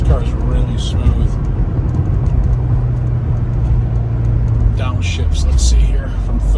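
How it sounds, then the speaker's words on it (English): A 1986 Porsche 944 downshifts from third to second, its engine a steady, close low drone with a brief shift in pitch toward the end. "Downshifts, let's see here, from third to second."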